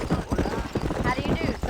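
Horse hooves clip-clop steadily in Red Dead Redemption on PC, a fast, close rhythm of hoofbeats with a rider's voice calling out over them.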